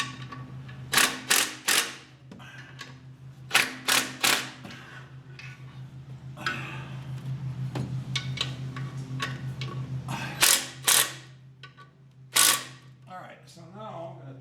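Bolts on a 1967 Mustang transmission are torqued down, with a series of sharp metallic ratchet clicks in short bursts between quieter stretches, near and fairly loud.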